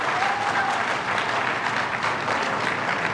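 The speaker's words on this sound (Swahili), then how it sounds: "Tuwapige makofi tafadhali" An audience at a stadium project announcement breaks into loud, sustained applause that fills the whole stretch evenly, with faint voices mixed in.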